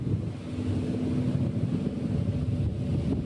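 A boat engine drones steadily at sea on a crossing from Koh Samui toward Koh Phangan, blended with constant wind buffeting the microphone. The roar is even and continuous, with no voices.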